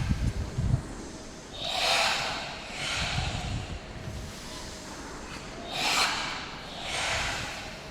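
Rhythmic forceful breaths, sharp nasal exhales and inhales drawn down toward the belly, repeat in regular bursts during a martial arts breathing exercise at the 2007 Budosai, with low thumps underneath.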